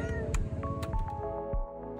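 A stray cat in Indonesia meowing as it is released after capture, a few loud, close, drawn-out meows in quick succession with a slightly wailing tone.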